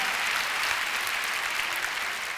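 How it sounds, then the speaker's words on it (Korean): An audience at a large Korean prayer meeting claps together, a steady, even wash of applause that fills the hall from start to finish with no speech on top. "이런 건 박수 한번 쳐주십시오"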